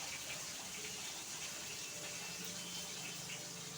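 Hilsa fish head frying in a kadai with chilies and a bay leaf gives a steady, even hiss of sizzling oil that runs unbroken at moderate level with no voices.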